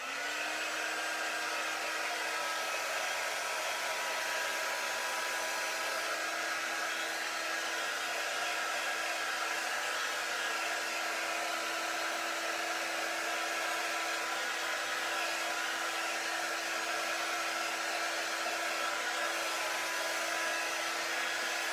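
A hair dryer blows steadily and loudly for about twenty seconds, drying a board that has just been cleaned; the airflow hum stays constant throughout, with no talking over it.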